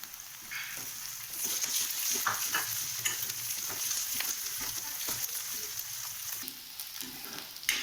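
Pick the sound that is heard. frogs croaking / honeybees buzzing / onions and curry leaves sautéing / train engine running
onions and curry leaves sautéing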